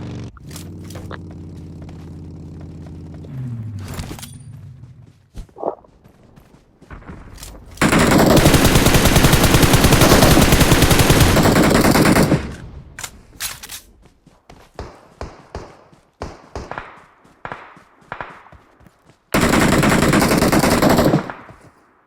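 Loud bursts of machine gun fire and gunshots come in long sustained volleys, split by scattered single shots, scraping and quieter gaps, with a low humming tone at the start.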